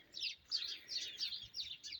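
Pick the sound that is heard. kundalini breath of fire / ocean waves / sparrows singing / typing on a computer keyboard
sparrows singing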